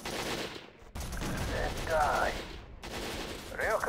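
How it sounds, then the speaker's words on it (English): Rapid machine gun fire crackles in bursts in a Squad Warfare mod battle, several loud rattling volleys separated by short gaps, with distant battlefield noise between them. "And that's machine gun."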